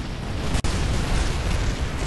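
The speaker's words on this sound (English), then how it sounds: "I guess we get to see an explosion" Explosion in the video game Kerbal Space Program, a loud sustained roaring rumble filling the whole stretch, broken by one brief dropout, with no talk over it.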